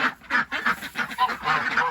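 A flock of backyard ducks, runner ducks among them, gives a run of quick, nasal quacks in close succession, fairly faint but clear, with no talking.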